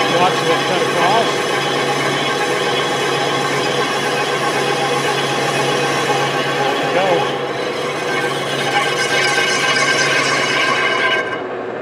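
A lathe cuts a cast brake drum for an antique American Underslung car, giving a steady, loud machining drone with a constant hum and gritty cutting noise that continues almost to the end before dropping away.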